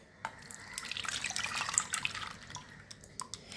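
Mango Frooti drink being poured and strained through a sieve, giving a steady trickle and drip of liquid with small splashes, close by and fairly loud, with no talk.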